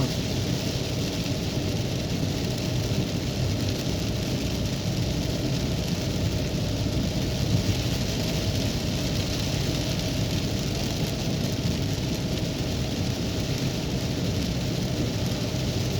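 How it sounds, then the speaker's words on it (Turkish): Steady heavy rain falling over farm fields in Mudurnu, a dense continuous hiss with low thunder rumbling underneath throughout, no talking. "Gerçekten de güzel yağmur yağıyor."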